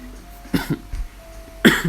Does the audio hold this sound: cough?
yes